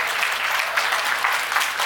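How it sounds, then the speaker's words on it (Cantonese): Applause from an audience at a Subaru WRX STI owners' club eighth anniversary gathering in Hong Kong, steady dense clapping throughout with no speech over it. "俾啲掌聲我哋嘅康少先"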